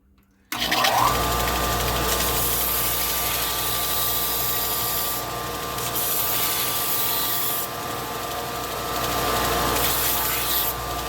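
Wooden hair barrette being sanded to smooth away bandsaw marks, giving a steady, close, abrasive rubbing whir that starts abruptly and runs continuously, alone without talk.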